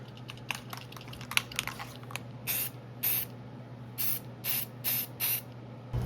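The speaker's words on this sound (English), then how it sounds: "I'll spray paint these coupling hooks as well," Several short hissing bursts of a white aerosol spray paint can coating model train coupling hooks, about a second each, close by over a low steady hum, with a few light clicks beforehand.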